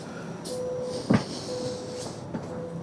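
A new Toronto subway train, heard as a steady low rumble and hum, with a couple of brief tonal notes and a single soft thump partway through.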